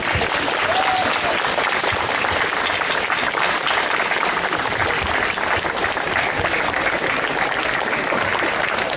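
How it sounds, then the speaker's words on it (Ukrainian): A concert audience gives a standing ovation at a birthday tribute to a Ukrainian singer, with loud, dense clapping that stays steady throughout with no pauses. "Їм аплодують стоячи."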